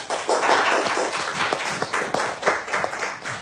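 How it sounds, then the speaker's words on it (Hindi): A classroom full of students claps for a trainee design teacher, a dense burst of overlapping hand claps with sharper individual smacks standing out, steady and fairly loud throughout. "तो तालियां हो जाए"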